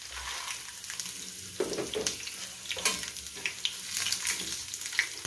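Garlic, onion and small chilies hitting hot oil and frying, a close, crackling sizzle with bursts as pieces are stirred, and no speech.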